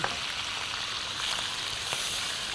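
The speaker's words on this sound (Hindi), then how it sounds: "थोड़ा सा फ्राई कर लेना" Beef and chicken mince mixed together and frying in oil, a steady close sizzle with faint crackle throughout, no voices.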